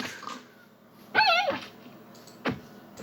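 A large dog in a video game, version 1.14, lets out a sharp whining bark followed by a shorter yelp a moment later, fairly close against a quiet background.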